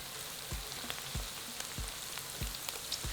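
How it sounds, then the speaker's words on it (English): Diced red onion frying in a pan, a quiet steady sizzle with soft periodic knocks of stirring, no voices. "add in a diced red onion and cook for 5 minutes, stirring occasionally until the onion softens"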